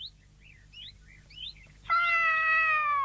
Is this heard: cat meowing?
yes